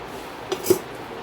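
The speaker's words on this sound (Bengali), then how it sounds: "আর এই যে দেখো গরম ভাত বাড়ছি বন্ধুরা" A utensil serves hot rice out of a pot, making two soft metallic clinks close by in otherwise quiet surroundings.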